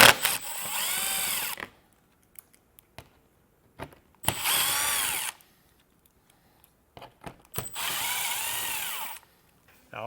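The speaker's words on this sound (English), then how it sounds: "We'll just keep working across the front and get all these screws removed." A power drill backs screws out across the front of a 2021 Jeep Grand Cherokee. Three loud whirring runs, each one to two seconds long, are separated by quiet gaps with small clicks, and no one talks.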